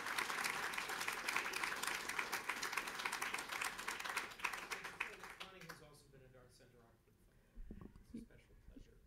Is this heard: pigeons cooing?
no